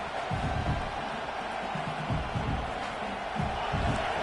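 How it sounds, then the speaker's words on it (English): A stadium crowd roars at a Clemson vs Notre Dame college football game, a broad, sustained wash of noise from a distance with surges of cheering, under a commentator's voice. "Listen to the crowd energy here in the early going."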